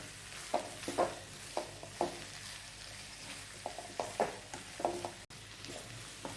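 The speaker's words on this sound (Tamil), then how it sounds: "இதை நல்லா கிளறி விடணும்." A spoon stirs potato masala in a pan, scraping the metal in a steady series of short, distinct strokes about every half second, close and moderately loud, with no talking.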